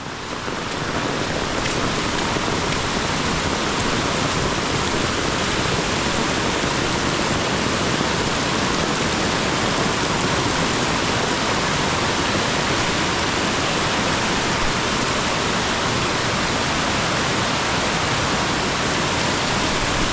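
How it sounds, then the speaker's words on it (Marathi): A small river in spate rushes past near Khed in Ratnagiri, Konkan, swollen after a day of continuous monsoon rain: a dense, steady, full-bodied roar of water that holds unbroken and loud throughout, with no voices. "नदीला पूर जोरात आलाय."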